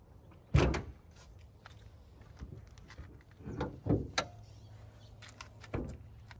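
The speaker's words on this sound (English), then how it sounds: "I'm going to open the hood." A Maserati Ghibli hood is opened: a sharp latch clunk, then a couple of softer thuds and knocks as the panel is lifted, heard close in a quiet space.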